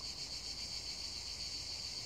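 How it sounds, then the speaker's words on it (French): Crickets chirp outdoors in a continuous, even, high-pitched trill that holds steady throughout at moderate loudness, with no speech over it. "Vous entendez les grillons, là, les oiseaux"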